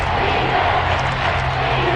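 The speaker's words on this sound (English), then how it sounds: "The crowd getting into it as we come up on a big third down." A stadium crowd roars in the Madden NFL football video game ahead of a big third down, a dense, loud and steady wall of cheering with no clear breaks.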